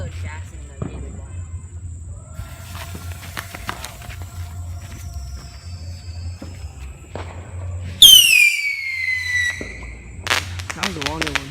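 Fireworks going off outdoors, likely Texas bottle rockets and screamer-type fireworks: a sharp descending whistle-like squeal bursts in near the end, followed by crackling pops, over a steady low rumble of background noise with brief knocks and steps.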